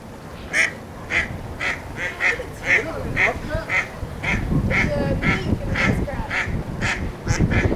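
Ducks quack in a steady rhythm, about a dozen evenly spaced nasal calls carrying loudly over water and outdoor rustling.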